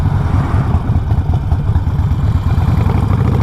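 A 2020 Harley-Davidson Roadster fitted with a Vance and Hines Fuel Pack idles at low revs, a loud close rhythmic thumping that holds steady throughout.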